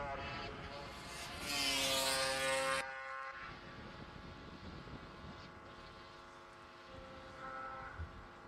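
A Yamaha R6 racing motorcycle at a classic bike race meeting, heard in the pit lane as a rising, buzzy engine note that swells briefly and then settles into a lower, uneven rumble, with no talking.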